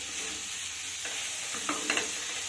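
Bathua greens and eggplant mixed together in a pan, with a soft, steady sizzle and a few sharper spatula scrapes near the end, heard alone.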